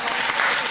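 A short burst of dense hand clapping from a small group, close and steady, with talking over it.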